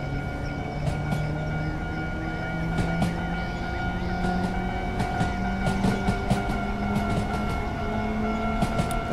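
A Japanese 103 Series electric multiple unit train in Train Simulator 2017 runs steadily along the rails after departing a station at low speed, with a continuous motor hum, rolling rumble and scattered clicks of wheels over rail joints.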